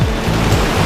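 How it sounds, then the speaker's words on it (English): Heavy tropical downpour in Kuala Lumpur, a dense steady roar of pouring rain close around with no gaps and no talk. "And it's pouring right now. The rain doesn't joke here, man."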